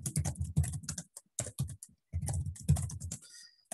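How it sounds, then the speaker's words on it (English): Someone types quickly on a computer keyboard during a lecture, with clustered keystrokes broken by short pauses, close and fairly distinct. "I don't know why I've started typing everything."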